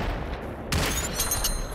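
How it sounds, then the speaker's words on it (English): Gunfire in the VR battle royale game Population: One, a burst of sharp, loud shots with a crackling tail, close and dense, without speech. "What'd you shoot him with, Psycho?"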